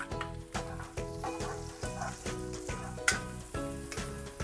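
Garlic and onion sizzle softly in a pan, a faint, steady frying crackle under a rhythmic background pulse.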